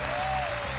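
A large arena crowd at a League of Legends All-Star esports event in Barcelona claps in a loud, dense, sustained burst of applause with no pause.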